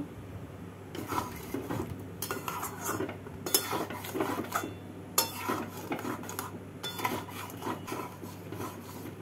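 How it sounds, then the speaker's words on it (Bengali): A spoon stirs doi potol, pointed gourd in a yogurt, cashew and green chilli sauce, in a pan: repeated close scraping and clinking bursts of metal against the pan, coming in uneven rounds with short pauses between. "ভালো করে নাড়াচাড়া করে নিলাম।"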